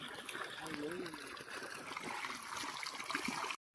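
Steady rushing and trickling of water flowing from a 5 hp solar-powered pump on a farm, continuous and fairly close, with a brief voice murmur partway through before a sudden cutoff near the end.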